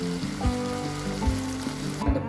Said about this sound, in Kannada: ಪ್ಯಾನ್ ಒಳಗೆ ಎಣ್ಣೆ ಹಾಕ್ಕೊಳಕತ್ತೀನಿ.